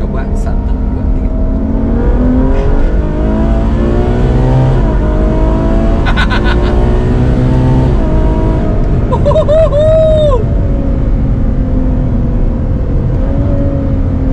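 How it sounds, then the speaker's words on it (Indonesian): Ferrari FF with a 660-horsepower V12 and standard exhaust accelerates hard, its engine rising through the gears in a loud, smooth, high-pitched wail that fills the whole stretch. "Jadi seperti suara mesin tuh seperti simfoni yang halus"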